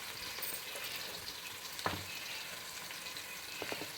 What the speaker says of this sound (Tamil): போட்டுக்கிட்டு நல்லா வதக்கி விட்டுக்கோங்க